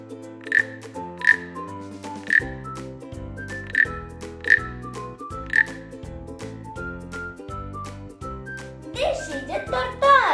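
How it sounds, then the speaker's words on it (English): A cartoon-style frog croaks about six times in a regular rhythm, each croak short and sharp, over bright, plinking children's background music. "This is a frog."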